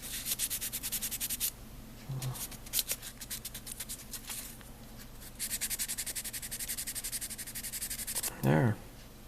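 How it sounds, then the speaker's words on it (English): Sandpaper rubs against ejection points on plastic parts of a Hasegawa 1:72 F-4EJ Phantom II kit, coming in quick rhythmic scratchy bursts separated by pauses, close and quiet. "I just got some sandpaper here, and just removing"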